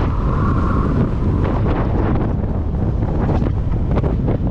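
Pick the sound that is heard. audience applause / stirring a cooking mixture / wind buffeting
wind buffeting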